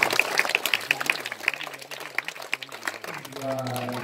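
A congregation in a Catholic parish church applauding before a Mass for the Mid-Autumn Festival, with many hands clapping in a dense, continuous patter while someone speaks over it.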